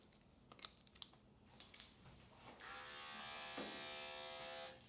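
Electric dog clippers fitted with a one-guard comb buzz steadily and close while grooming a doodle puppy, starting after a few soft clicks and handling noises.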